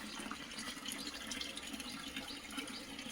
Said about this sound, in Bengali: ট্যাঙ্কিটা পরিষ্কার করা হচ্ছে ওপরে, তার জন্যই জল সব নিচে নামানো হচ্ছে